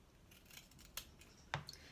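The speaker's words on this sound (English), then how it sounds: "then cut the fabric" Small fabric scissors snip through cloth at the corners of a pincushion being sewn, making two or three quiet crisp cuts with a sharper snip near the end, in a still room with no talking.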